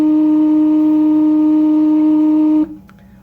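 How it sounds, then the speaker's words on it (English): Large front pipe of an electrically controlled pipe organ sounds one steady, loud low tone with strong harmonics, held for about two and a half seconds before cutting off abruptly. "play sound now through this big organ pipe at the front"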